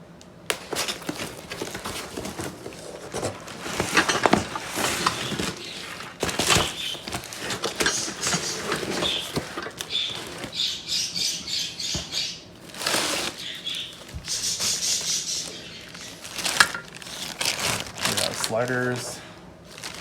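Packaging for racing seat sliders and bolts is opened and handled, giving crinkling, rustling and shuffling bursts with a few sharper knocks, close up and fairly loud, with a voice speaking in between.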